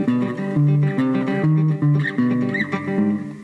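Cigar box guitar plays Malaguena in a Spanish flamenco style on two strings, a loud, close melodic line of plucked paired notes with a twangy, buzzy tone.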